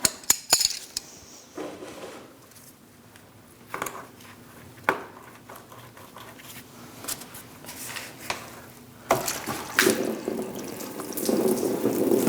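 Coolant splashes and drips into a drain pan from the removed lower radiator hose of a 2000-2006 Mini Cooper 1.6L L4, close and uneven, with sharp clicks and a heavier gush near the end.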